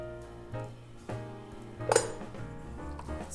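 Lid lifted off a pot of cooked eggplant rice, giving a sharp metallic clink against the pot amid a few soft utensil knocks, heard up close with no talking.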